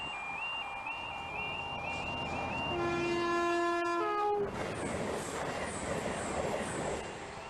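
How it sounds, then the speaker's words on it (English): A train passes on a railway line in misty Scottish lowlands, first sounding its horn in several long tones, then rumbling by close and loud with a steady rolling roar. "we've got a train coming then"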